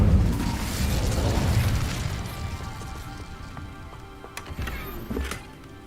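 The Incendio fire spell in Hogwarts Legacy erupts as a loud, bursting whoosh of flame at the start, then fades into a crackling decay with a few sharp pops toward the end.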